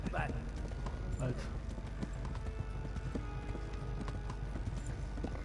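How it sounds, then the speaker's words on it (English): Horse hooves clip-clopping in the medieval video game Kingdom Come: Deliverance, a steady quiet trot over ambient game sound, with a voice talking over it. "Horsey, horsey, horsey."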